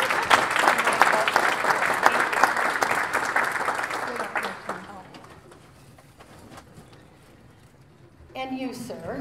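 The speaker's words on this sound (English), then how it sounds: "So can we give her a round of applause?" Audience applause at a county treatment courts foundation annual breakfast rises loudly for about five seconds then fades away, after which a voice begins speaking.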